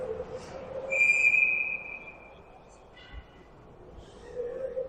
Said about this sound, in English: Whistle blows, and we're going to redo a face-off.